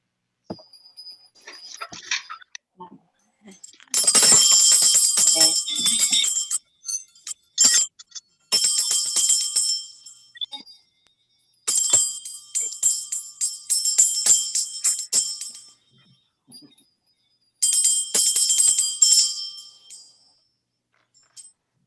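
Small handheld bells are rung by participants in an online meeting welcoming a new minister, bursts of bright jingling and clinking in several separate clusters of a few seconds each, with quiet gaps between.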